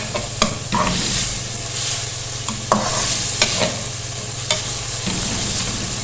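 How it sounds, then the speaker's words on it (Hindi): Cumin seeds sizzle steadily in hot oil in a pan, with occasional sharp clicks of a spoon stirring, close and continuous throughout. "बस 2 मिनट तक इसको सौटे करेंगे"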